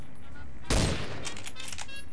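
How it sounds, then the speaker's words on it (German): Gunfire in the video game Fallout 3: a single loud burst of shots near the start, followed by fainter crackling and scattered impacts over a steady background hum. "Oder wir ballern da drauf."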